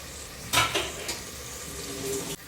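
Chillies, a chicken Maggi cube and dried lemon for Arabic kabsa are stirred in a pan over steady frying sizzle, with a few quick scraping strokes and light metal clinks, close and short.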